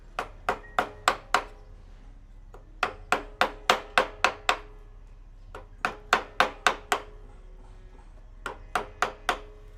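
Wood is struck with a mallet and chisel while beveling during Maori wood carving: crisp, sharp knocks come in quick bursts of four to six blows separated by short pauses, close and clear with no talking.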